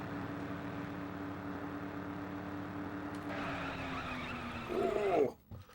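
A car in the Mercenaries game brakes into a skid, its steady engine drone giving way to a rising tire squeal near the end before cutting off abruptly.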